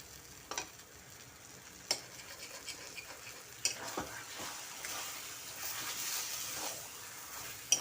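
Kochu (taro) flowers for ghonto fry in oil over a lowered flame, with a steady soft sizzle and intermittent scraping stirs and sharp clicks of a spatula against the pan, close by.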